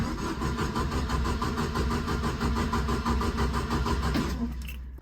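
A 1972 Mk1 Ford Escort, on choke after months unused, cranks with a loud, rapid rhythmic churning from the starter for several seconds, then cuts off abruptly near the end.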